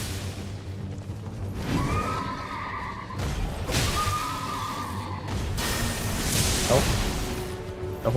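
A horse neighs in the Elden Ring video game, with whinnies rising near 1.8 s and 3.7 s amid crashing combat noise and a steady game soundtrack, loud and close throughout.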